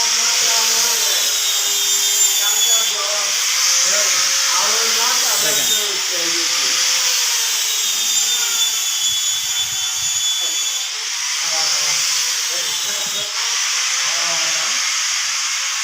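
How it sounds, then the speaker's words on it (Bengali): Steady loud machine whine and rasping of woodworking tools in a teak furniture workshop, continuous and close throughout with faint rubbing and scraping underneath. "আমাদের কারখানা আমরা যদি দেখাই দেখেন এখানে কাজ চলতেছে"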